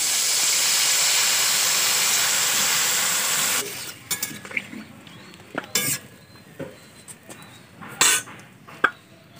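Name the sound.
curry broth boiling in pot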